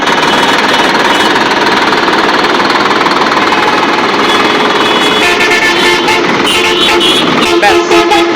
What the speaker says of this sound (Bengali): ট্রাক্টরটি ব্যাগে যাচ্ছে সুন্দরভাবে